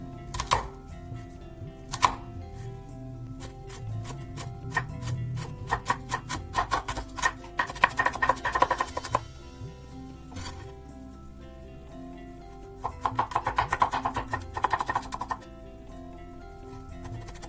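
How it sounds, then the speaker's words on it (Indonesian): A knife finely slices an onion for cream corn soup, tapping on a cutting board in quick irregular runs with pauses between them, crisp and close with light background music. "Nah, ini bawang bombaynya kita iris-iris seperti ini, irisan halus untuk sop krimnya."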